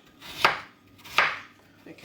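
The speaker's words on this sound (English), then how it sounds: "We want thin slices of potato." A kitchen knife slices potatoes thinly for frying in hot oil, making two distinct cutting strokes and the start of a third. Each is a close, crisp swish ending on the board.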